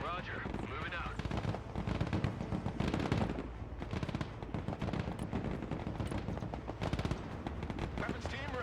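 Dense, continuous automatic gunfire from a weapons team in the military strategy game Broken Arrow, loud and sustained with rapid overlapping bursts and a voice calling out over the shooting.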